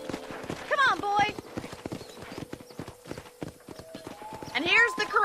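Horse hooves clip-clopping at a walking pace on a ranch in Red Dead Redemption, steady close hoofbeats with brief snorts, under someone talking.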